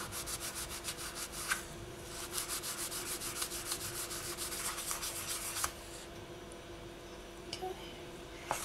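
Edges of a polymer clay mokume gane piece lightly sanded by hand, a close steady rhythmic rubbing scrape in quick repeated strokes, quiet and without talk.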